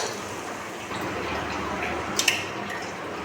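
Jaggery water trickles and splashes steadily into a pan, with a couple of brief drips or clinks near the end; no voices.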